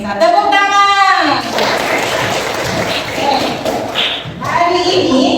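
Classroom group of pupils and teacher clapping together during a coaching session, a dense, steady burst of many hands under loud cheering voices, continuing for several seconds with shouting mixed in.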